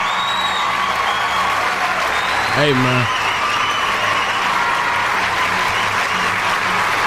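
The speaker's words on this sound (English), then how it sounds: "Give you all a round of applause at the same time." Loud, sustained applause and cheering from an audience, with a continuous wash of clapping, whoops rising over it, and a voice briefly speaking partway through.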